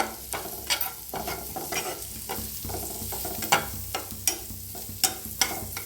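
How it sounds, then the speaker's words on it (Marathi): Eggplant with asafoetida, red chili, turmeric, garam masala and coriander powder roasts in a pan for bharit, a soft sizzle broken by repeated sharp spatula scrapes and stirs in an uneven rhythm, no speech. "छान मिक्स झालेला आहे बघा छान भाजलं गेलेलं आहे"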